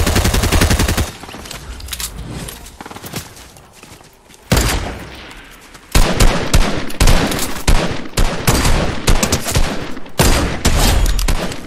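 Gunfire and sniper shots in the video game Fortnite, a loud, close barrage of rapid automatic bursts and sharp single cracks, briefly dropping off before resuming in dense repeated volleys with no speech.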